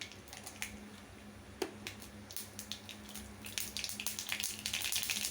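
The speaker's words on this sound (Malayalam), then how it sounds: "ചൂടായി കിടക്കണതിലേക്ക് കടുക് ഇട്ട് കൊടുക്കാം." Mustard seeds splutter in hot coconut oil in a pan, starting as scattered sharp pops and crackles that grow denser and louder toward the end, with no talking.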